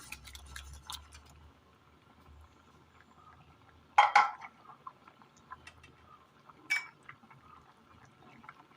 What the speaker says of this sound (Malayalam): കറിയിലേക്ക് കടുക് താളിച്ചത് ചേർത്ത് കൊടുക്കാം